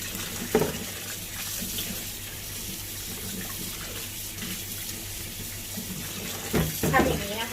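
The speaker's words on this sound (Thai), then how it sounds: "พอเราแช่เบกกิ้งโซดาเสร็จแล้ว เราก็มาล้างน้ำเปล่านะคะ ประมาณ 2-3 รอบนะคะ" Tap water runs steadily into a sink as vegetables for kimchi are rinsed in plain water, with a few splashes and handling sounds near the end.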